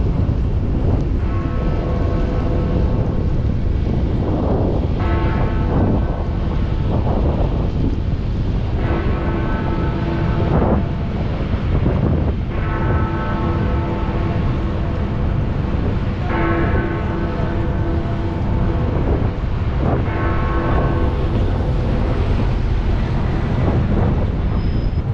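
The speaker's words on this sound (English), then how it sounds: "We get to hear the 11 o'clock strike of Big Ben." Big Ben in London striking 11 o'clock, deep bell strokes tolling at slow, even intervals, each ringing on, heard outdoors from a distance under heavy wind buffeting the microphone.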